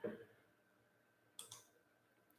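A computer mouse clicks faintly during a livestream, a couple of quick light clicks close together after a soft thump, quiet against a low background hum.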